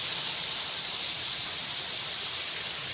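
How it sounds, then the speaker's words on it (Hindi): Heavy rain falling outdoors in a village with strong wind, a steady dense hiss that stays loud and unbroken throughout. "बारिश है ढाडी बारिश है।"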